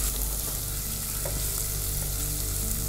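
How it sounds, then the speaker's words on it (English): Ginger strips and chopped garlic sizzle and fry in hot oil in a pot for vegetable soup, a steady, loud, crackling hiss that runs evenly throughout with no talking. "Now that the oil has gone nice and hot, I'm going to add in the fine strips of ginger that we cut."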